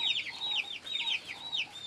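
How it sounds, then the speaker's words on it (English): Chickens cluck in a village home setting, a steady run of repeated bright clucks at moderate distance with no talk over them. "The chicken."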